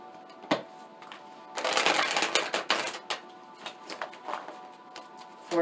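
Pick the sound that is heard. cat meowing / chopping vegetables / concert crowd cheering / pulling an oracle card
pulling an oracle card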